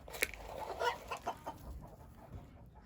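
Fayoumi chickens cluck in a short run of uneven, moderately loud calls, a few sharper squawks standing out against steady farmyard background noise.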